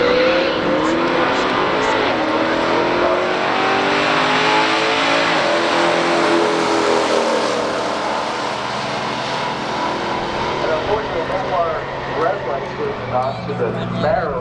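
A Camaro SS 350 and a Dodge Dart GTS 340 small-block drag race, heard as a loud sustained roar of engines accelerating with shifting pitch, fading slightly toward the end, with a voice talking over it.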